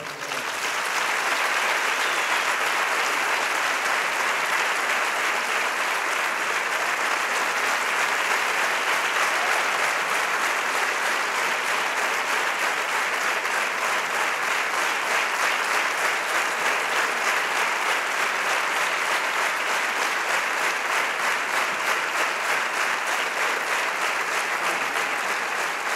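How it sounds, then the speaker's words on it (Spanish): Sustained, loud applause from a large audience at a band's album-launch concert in Veracruz, a steady dense wash of clapping holding without pause from start to finish. "Un fuerte aplauso."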